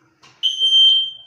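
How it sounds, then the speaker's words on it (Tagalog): A smoke alarm in a room sounds after detecting smoke: a loud, piercing, steady electronic beep that starts abruptly after a brief rustle and holds for about a second, close by and alone. "So, kaya siya nag-alarm. Nakadetect siya ng usok."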